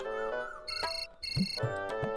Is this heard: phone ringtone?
yes